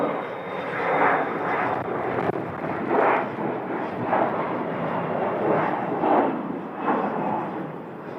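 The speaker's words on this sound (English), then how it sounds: "Another Alaska departure coming over the bridge for the taxiway here." An Alaska Airlines Boeing 737-900, an older model fitted with winglets, taxis at Phoenix Sky Harbor before departure. Its jet engines give a loud, steady roar close by that swells in repeated surges, with no voices.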